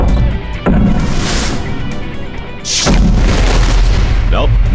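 Explosives set off on a ranch produce loud, close booms, two big blasts a couple of seconds apart, each followed by a rumbling roar.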